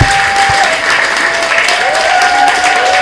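At a consumer meeting, an indoor crowd stands and claps loudly to welcome eleven visiting business owners, with a thick, continuous wash of applause and a faint tone running underneath.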